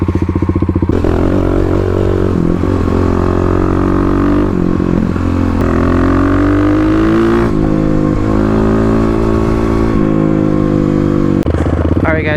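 A Stage 3 Kawasaki KLX351 dirt bike ridden on Oregon forest trails, its engine loud and close throughout, rising and falling with throttle, with occasional clatter from the bike.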